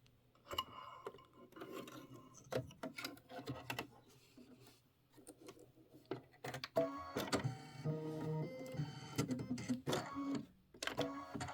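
Embroidery machine stitching the eyes and mouth of a snowman design on a decorative quilted hot pad, a busy rapid mechanical whir and clatter with uneven bursts, close and continuous throughout.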